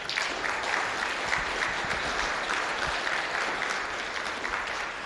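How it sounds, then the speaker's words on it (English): Conference hall audience applauding sponsors, a thick, sustained roar of many people clapping together, loud and even throughout with no voices over it. "So let's give them a round of applause."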